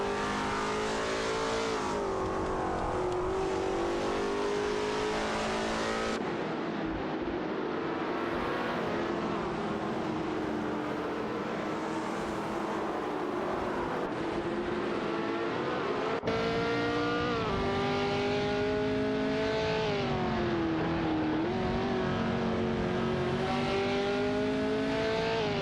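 Race car engines roaring and shifting pitch during an overtake in a racing video game, a steady loud drone with rising and falling revs and no talking.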